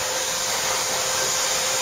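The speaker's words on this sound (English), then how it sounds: "turn the vacuum on." A loud, steady vacuum cleaner roars without pause, an even high-pitched rushing whine heard up close and alone.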